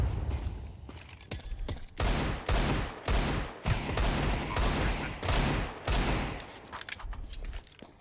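Counter-Strike 2 AK rifle fire rattles out in repeated loud bursts of rapid shots, with brief pauses between volleys across the whole stretch.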